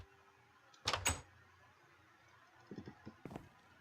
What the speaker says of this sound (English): listen to how this door opens